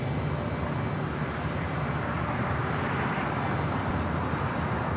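A KLM Boeing 787 Dreamliner arriving from Amsterdam at LAX gives off a steady, broad jet roar that holds at an even, loud level throughout, with no voices over it.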